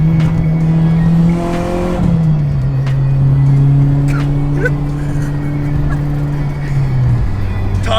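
A tuned Mitsubishi Evo X engine revs hard under acceleration, a loud, close, sustained drone that climbs, drops at a gear change, then holds high before easing off, with faint clicks and wind noise.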